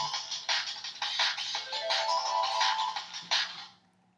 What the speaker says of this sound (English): That was my phone reminding me to check my email.